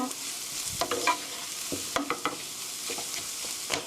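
A spoon scrapes and taps through soft scrambled eggs with onions in a pan off the heat, with irregular close clicks and strokes over a faint low sizzle and no speech.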